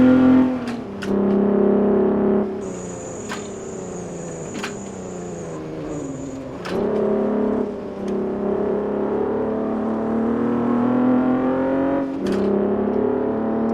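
A race car engine in the Assetto Corsa sim racing game revs hard during a hot lap, climbing through gears with rising pitch and abrupt shift drops, loud and continuous with brief tire or whine tones.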